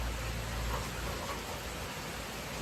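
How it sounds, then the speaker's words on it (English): Steady rain falls outdoors on a hot, humid day, a continuous even hiss of drops on surfaces with no voices. "it's still raining, but it has slacked off"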